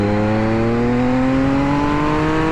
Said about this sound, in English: the motor on this is really the star of the show. Really pulls good.